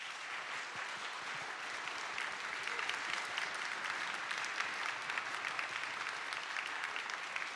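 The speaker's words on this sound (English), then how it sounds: "Let's give our panel a big round of applause." Conference audience at App.js Conf 2023 applauds a panel, a dense, steady wash of many hands clapping that holds evenly throughout, moderately distant and alone with no talk.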